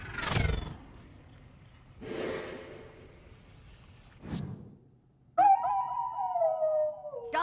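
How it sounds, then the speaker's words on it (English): Dogs howling in South Park: The Fractured But Whole: loud, close bursts of whooshing and growling noise, then a sustained wavering howl that holds for about two seconds, with no talk. "Dogs? Why did it have to be dogs?"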